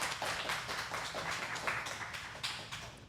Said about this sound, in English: Let's give a hand clap for your moms